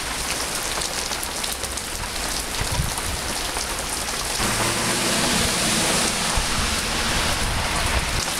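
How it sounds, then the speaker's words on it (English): Heavy rain pours hard during a flood, loud, dense and steady throughout, drumming on surfaces with water running through a front yard, and no voices. "And now it's raining so hard that there's a current in my front yard."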